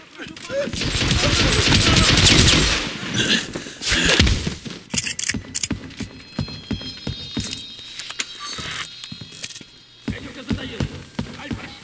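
Rapid bursts of gunfire in the video game Hitman: Absolution rattle out, first a dense continuous barrage, then scattered sharp shots and mechanical clicks, loud and close.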